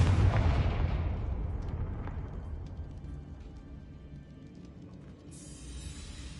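A Confringo explosion spell in Hogwarts Legacy booms loudly at the outset, then its rumble decays slowly over several seconds, with a faint hiss rising near the end.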